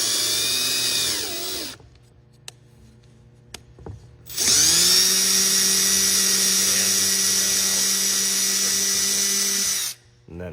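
A drill turns a 1/4 tap into a Honda GX160 engine block, whining loudly and steadily for several seconds, with a shorter earlier burst and a couple of sharp clicks in the quiet between.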